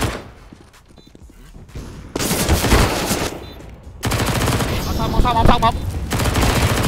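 Rapid automatic gunfire bursts and single shots in the video game Counter-Strike on the Overpass map, loud and close, with excited players talking over the shooting throughout.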